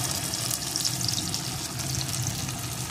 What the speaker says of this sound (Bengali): এখন এর ভিতরে দিয়ে দেব কয়েক টুকরো আলু।